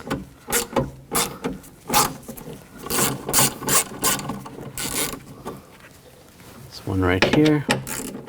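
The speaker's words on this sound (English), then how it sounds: "Using a 10mm socket, take these nuts off." A 10mm socket ratchet clicks in short bursts while removing nuts inside the door of a 2000-2005 BMW X5 during a rear window motor replacement, close and sharp, with brief talk in between.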